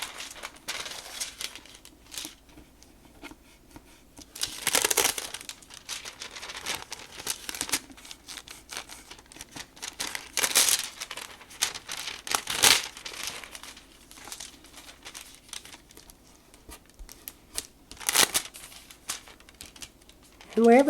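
Thin crafting deco foil being peeled away from adhesive tape, giving soft crinkling and crackling bursts that come and go irregularly, close but fairly quiet.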